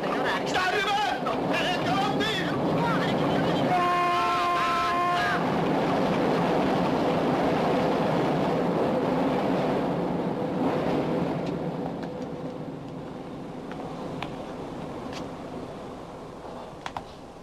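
A train draws near, sounding a brief steady horn blast early on, then rumbles loudly past before its noise gradually fades, with voices talking over it.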